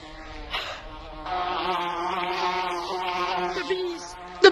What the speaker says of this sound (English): The bees are coming. The bees.